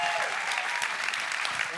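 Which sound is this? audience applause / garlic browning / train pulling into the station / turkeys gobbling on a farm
audience applause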